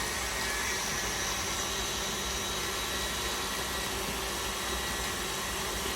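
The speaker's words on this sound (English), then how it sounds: "Put that back in the mixer" An electric kitchen mixer beats peanut butter cookie dough with a steady, dense whirring drone that stays even and close from start to finish, with no voices.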